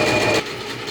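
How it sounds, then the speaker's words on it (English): A sewing machine runs steadily as it stitches fabric all the way around a project piece, with a loud, even whir that drops to a lower, softer hum partway through the brief moment. "I'm just going to sew all the way around"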